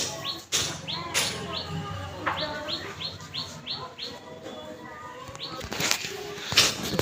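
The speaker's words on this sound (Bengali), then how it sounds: "পায়রাগুলো চলছে" Pigeons move about outdoors, giving a string of quick, evenly spaced chirps and a few soft wing flaps against a hissy background, while a voice talks faintly at times.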